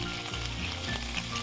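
Chopped ginger, garlic and green chili hitting hot oil in a studio kitchen, a brief, loud, continuous sizzle heard close and alone.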